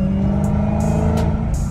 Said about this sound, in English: These downshifts too go crazy on me.